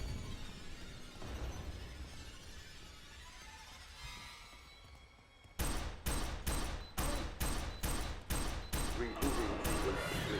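Gunfire in the shooter game F.E.A.R. 3, a murky rumbling ambience giving way to a loud, rapid string of sharp automatic bursts, about a dozen evenly spaced cracks close up, with a voice talking underneath early on.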